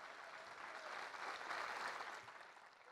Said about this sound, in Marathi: अरे टाळ्या वाजवा की